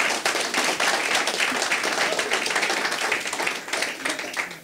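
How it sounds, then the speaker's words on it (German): Applause from a small group during a kitchen talk show with football coaches, lively scattered clapping that holds steady and thins slightly toward the end. "da gibt es den Applaus"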